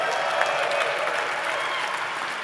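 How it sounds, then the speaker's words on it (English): A large dinner audience gives a dense, continuous round of applause, many hands clapping at once, steady and full throughout. "Give yourselves a round of applause."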